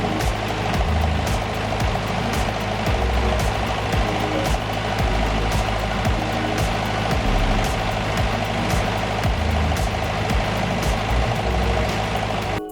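A skid steer's engine runs loud and steady on a garage building site while it lifts roof tiles up to the scaffolding, with a continuous diesel drone and repeated sharp knocks and clatters over it.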